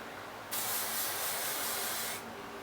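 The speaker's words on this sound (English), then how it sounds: "I'm going to use some hairspray too" A single continuous hiss of an aerosol spray lasts under two seconds, close and fairly loud, then cuts off to quiet.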